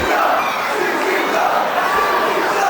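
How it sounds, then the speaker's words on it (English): Dense, steady roar of a wrestling crowd at an extreme-style indoor show, loud and continuous with shouted cries blending into the din. "Listen to the crowd."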